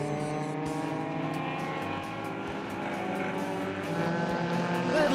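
Race cars, including two Mercedes and a Beetle, speed down a hill toward the final bend of a circuit, with sustained engine drone and overlapping pitch sweeps as the cars pass.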